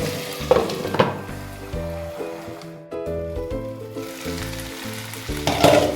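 Chopped tomatoes sizzle in a hot frying pan while cooking a Bengali fish-head rice dish, a steady close hiss with a few stirring clinks, under prominent tonal background music.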